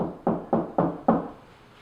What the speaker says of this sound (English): you can actually knock on the wood and listen for density